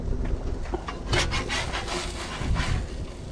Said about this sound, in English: Let me go ahead and scrape off my spatula a little bit